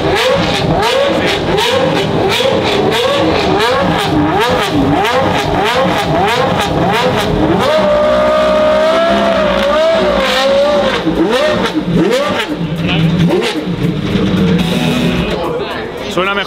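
A V10 race car engine in a racing video game revs loudly and continuously, climbing and falling in pitch through repeated throttle surges and gear changes.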